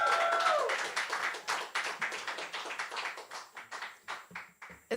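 Audience applause for poet Soledad at a poetry event, a loose scatter of hand claps that starts fuller and thins into sparse, separate claps as it fades.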